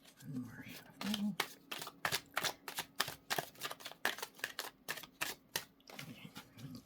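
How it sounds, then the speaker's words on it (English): Tarot deck being shuffled by hand, a rapid series of crisp riffling snaps and card slaps close up, with a quiet voice murmuring underneath. "One more shuffle."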